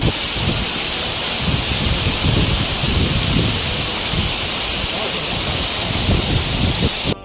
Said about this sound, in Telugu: కట్కే వాటర్ ఫాల్స్. ఒక్క పరి ఈ వాటర్ సౌండ్ వినండి మామ